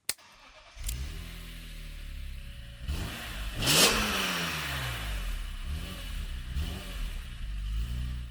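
A 2001 BMW E46 M3 engine cranks and fires, settles into a low idle, then gets blipped through several quick revs that rise and fall, heard from close by.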